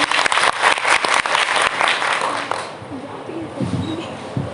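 Audience applause at a college English department annual function, dense and loud at first with sharp claps, then thinning out and fading as the clapping dies down.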